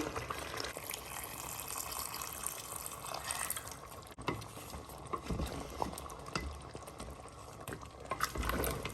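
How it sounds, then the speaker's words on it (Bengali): Boiled water splashes and pours into a pot of Mezbani beef with a continuous rushing hiss, followed by bubbling and stirring sounds, fairly quiet with no talking. "এখন আমি এখানে দিয়ে দিব 2 কাপ পরিমাণ পানি"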